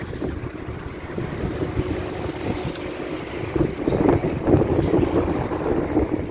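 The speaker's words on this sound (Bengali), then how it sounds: "দেখুন, অনেক বাতাস তুলে উঠতেছে" Strong wind blowing across a desert roadside with shops nearby, a continuous loud rushing buffet against the microphone that gusts stronger midway, with no talk.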